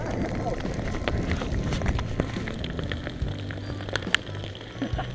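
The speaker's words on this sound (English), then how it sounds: "It's actually a hailstorm." Hail pelting down during a mountain hike in the Drakensberg, a dense continuous patter with scattered sharper cracks of stones striking nearby, loud and steady throughout.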